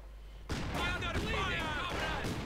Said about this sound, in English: and there you go, grenade going off